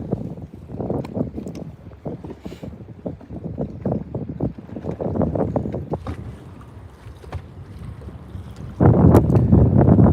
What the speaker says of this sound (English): That wind is starting to pick up out here. I may have to move again if it's too loud.